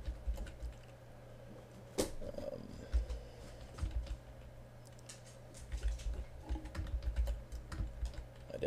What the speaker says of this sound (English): I definitely cannot type and talk at the same time.